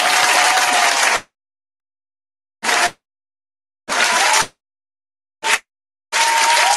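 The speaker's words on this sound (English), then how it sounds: "Let's clap." Bursts of audience clapping at a runway show, loud and dense, arriving in several separate spurts with silent gaps between them.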